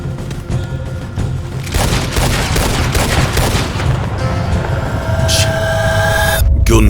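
Dense, rapid gunfire and booming blasts in Red Dead Redemption 2 fill the scene, with a voice faintly underneath and a sharp burst near the end.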